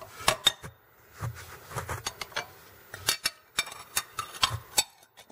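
Plastic plate lids and bottoms are clicked together and set down in a stack. The clip carries a quick series of sharp, close clacks and taps, some in bunches and some single, with quiet gaps between them.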